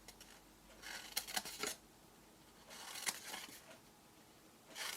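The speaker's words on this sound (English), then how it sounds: "These score lines here are what you need to cut up. So just cut straight up them." Scissors snip through cardstock along score lines while a paper treat box is made, giving a few quick bursts of close, crisp cutting with quiet pauses between them and no talking.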